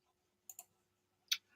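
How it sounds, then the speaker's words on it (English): Keys click on a computer keyboard as a cat walks across it, a quick pair of soft taps followed after a pause by one sharper click, all faint in a quiet room. "I've got a cat who's about to crawl across my keyboard"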